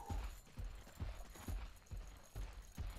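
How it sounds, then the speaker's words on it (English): Hero footsteps in the game Dota 2: a regular, quick series of soft thudding steps, about two per second, close and fairly quiet with a faint mechanical undertone. "No, that's my footsteps. This is footsteps. My dainty footsteps."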